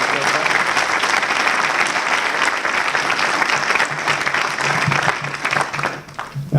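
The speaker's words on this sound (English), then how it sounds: "If you just give them a round of applause as well." Dense, steady applause from an audience at a National Sikh Police Association UK event, loud and sustained for several seconds before thinning out near the end.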